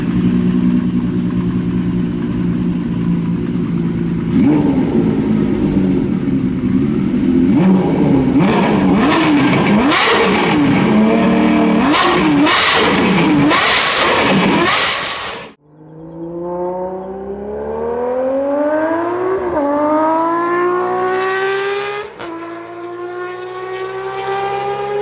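A 1982 Honda CBX-1000 motorcycle engine runs loud and close with a steady roar, then after a brief drop rises through a series of climbing revs.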